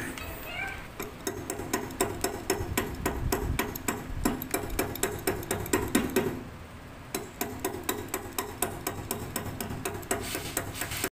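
Rapid, regular metallic hammer taps knocking out a washer on a 2012 Skygo 125 motorcycle during butterfly bearing replacement, dozens in a steady rhythm, close by, pausing briefly midway before resuming; a voice talks faintly underneath.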